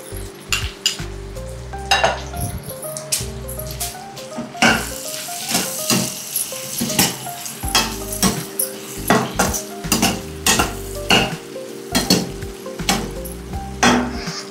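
Vegetables dressed with sauces stir-fry in a pan, giving a continuous sizzle broken by frequent sharp clinks and scrapes of a utensil against the metal, close and fairly loud, with no talking.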